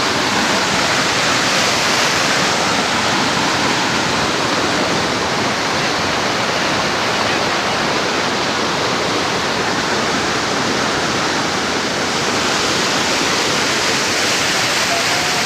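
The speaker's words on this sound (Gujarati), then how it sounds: "પાણીનો અવાજ" Lake water overflowing after heavy rain near Ranodara village, rushing into farm fields: a loud, steady, broadband roar of gushing water that runs unbroken throughout.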